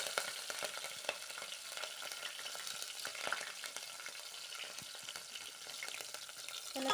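Chillies, garlic and mustard seeds frying in hot oil, a soft continuous crackle and spatter with light stirring scrapes throughout, fairly quiet and without talk.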